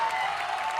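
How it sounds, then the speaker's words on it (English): A tournament audience applauds after a one-versus-one match, a brief dense wash of clapping heard on its own. "your victor for this match, FlyingTuna, give him a round of applause."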